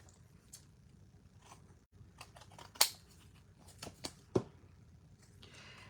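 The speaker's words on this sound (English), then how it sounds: "Then I'm going to trim off the edges." Scissors or a trimmer cutting the edges of a handmade hippo-themed paper card, several sharp crisp snips spaced irregularly over a quiet room background.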